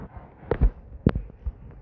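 Two sharp RPG rocket blasts from the video game Roblox Rivals, about half a second apart, each a short punchy burst followed by a brief rumble, with quieter game noise between them.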